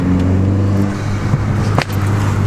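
A VW Golf Mk4 engine droning steadily at close range with a low tonal hum, broken by a brief crackling burst that fits exhaust pops.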